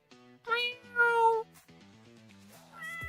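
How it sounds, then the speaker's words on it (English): Cat meowing close to a microphone, two drawn-out tonal meows followed by a softer, longer mewling cry, fairly quiet with brief gaps between. "I keep thinking your cat is by your microphone"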